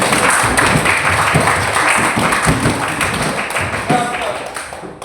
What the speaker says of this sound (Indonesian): Tepuk tangan untuk kalian yang hadir